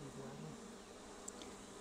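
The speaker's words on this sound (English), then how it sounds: "Lots of bees waiting to emerge there." Honey bees hum on a brood frame during an open hive inspection, a faint, even, continuous drone with a single small click partway through.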